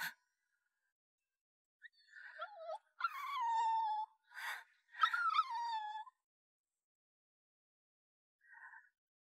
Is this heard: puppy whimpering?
yes